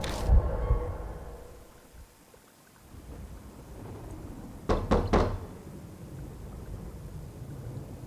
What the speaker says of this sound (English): My fist pounds on the door.